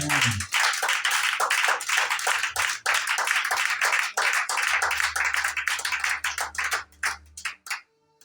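A church congregation claps hard and fast in a steady rhythm to acclaim Jesus Christ, dense and loud throughout before thinning out toward the end.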